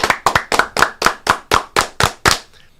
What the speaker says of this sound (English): 10 claps